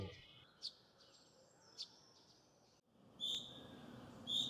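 Sparrows in a Ciechocinek park chirp in short, faint bursts over quiet ambient noise, with a few sharper calls closer by toward the end.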